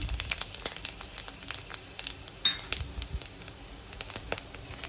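Cumin seeds with cardamom, cloves and cinnamon crackling in hot oil for a Tamil-style paneer curry, a steady run of small, sharp pops and spits close by, fairly soft, with no talk.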